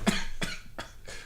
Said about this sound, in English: He coughing on grape drink.